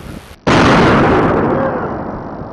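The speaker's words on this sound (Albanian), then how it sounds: "të cilët kryen edhe shpërthimin e telekomanduar" A bomb squad's remote-controlled detonation of a suspicious abandoned suitcase: one sudden loud blast that booms and slowly rumbles away over about two seconds, following faint background noise.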